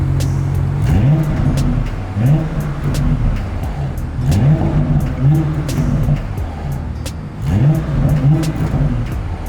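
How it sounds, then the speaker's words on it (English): A car engine accelerates in repeated surges, each rising rev climbing and falling in pitch, loud and close with a steady rumble underneath and no talking. "I'm not in love with the way this car sounds."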